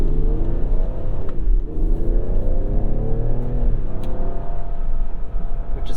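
A 2021 Ford Explorer ST engine pulls hard in sport mode onto a wet entrance ramp, a loud, close, rising rumble with gear changes and tire and road noise underneath throughout.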